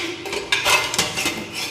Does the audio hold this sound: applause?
no